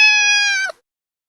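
A cat gives a single sustained meow, clear and close, holding a steady pitch for under a second before cutting off abruptly into silence.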